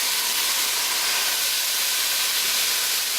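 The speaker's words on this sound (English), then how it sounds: "we've got a good sizzle going on this" Steady, bright hissing sizzle, like food frying in a hot pan, continuous and close with no talking.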